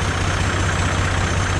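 A tractor engine idles with a steady, even low rumble, close and loud, and no voices are heard.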